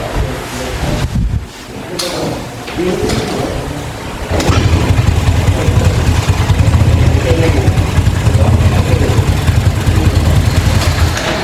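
A motorcycle engine is kick-started during an automotive teacher-training practical exam, with starter trouble; after a few scuffs and bumps it catches and settles into a loud, steady idle, with voices talking in the background.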